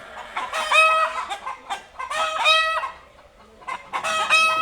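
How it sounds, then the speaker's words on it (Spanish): Hens on a ranch cluck loudly in repeated, rhythmic bursts of squawking calls, the kind made just after laying eggs, with short pauses between the outbursts. "Ese ruido normalmente lo hacen cuando una gallina acaba de poner huevos"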